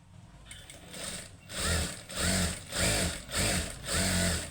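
A sewing machine stitching a blouse without lining, running in five even bursts of fast mechanical whirring separated by short pauses, close and clear with no talking.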